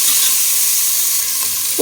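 Tomato and field beans frying in a pan for ghee rice, a loud, dense, continuous sizzle close by with a faint stirring knock near the end.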